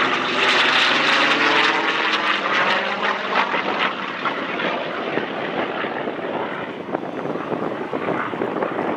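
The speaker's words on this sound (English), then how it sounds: "F4U Corsair that you're watching, built in 1945 at the conclusion of the war." A 1945-built F4U Corsair, a World War II propeller fighter, flies past during an air show demonstration. Its loud, steady engine roar fills the whole stretch and fades slightly toward the end.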